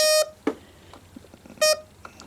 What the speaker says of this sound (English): as you just heard, the thing went beep when I put it near metal